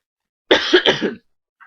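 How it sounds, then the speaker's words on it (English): A single close, throaty cough in two quick bursts, alone against silence. "sorry guys, I keep coughing"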